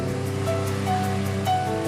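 Steady surf washes onto the white-sand, rocky shore at Mati Rotasi beach in Ujung, Parepare, South Sulawesi, in a loud continuous roar with no break and no voices.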